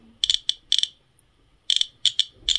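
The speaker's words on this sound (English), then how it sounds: "I even like the click sounds it makes." Sharp, crisp clicks from a Radiacode-102 radiation detector in irregular clusters, two or three at a time with short pauses between, close and fairly loud against a quiet background.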